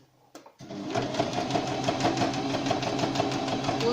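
A sewing machine runs in a steady, continuous stitching rhythm close by while sewing a fabric protective face mask, starting after a brief pause and needle positioning.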